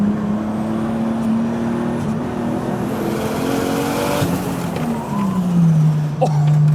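A Nissan Skyline GTT driven hard, the engine holding a steady drone that rises and falls as revs change, with tire noise and a short squeal near the end, close and continuous.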